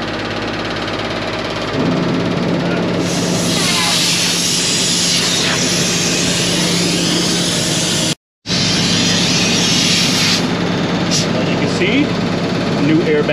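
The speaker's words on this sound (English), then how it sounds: "Sorry for all the noise, truck's idling." A Freightliner truck idles with a loud, steady engine rumble and broad hiss throughout, as shown by a constant drone that drops out for a moment near the end and then returns.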